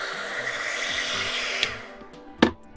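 A hot air gun blows steadily on heat shrink tubing covering a solder joint, a continuous close airy whoosh that dips near the end, followed by a short sharp click or clatter.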